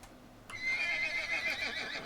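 A horse in the Western ranch game Cowboy Life Simulator gives one loud, shrill whinny with a fluttering, descending tail, breaking in after a brief near-silent lead-in and carrying to the end.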